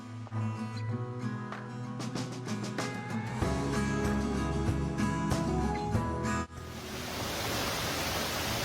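Harmonic tones and rising notes give way midway to the steady, hissing roar of a rainforest waterfall, loud and close.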